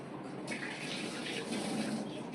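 Running tap water gushes steadily over about half a kilo of prawns being washed, close and fairly quiet.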